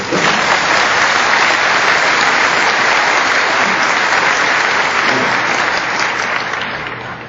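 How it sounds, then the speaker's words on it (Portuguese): Dense, steady applause from a large audience at a talk in São Paulo, loud and continuous throughout before tapering slightly at the end, with no voices over it. "Aliás, vamos aplaudir, né?"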